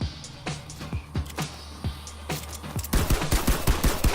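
Rapid gunfire in a shooting video game, crisp close shots in uneven bursts that thicken into a dense, continuous volley toward the end.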